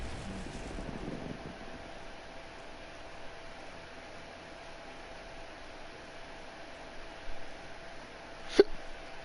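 One short, sharp hiccup near the end, rising over a steady, faint background hiss, with a softer rustle a moment earlier.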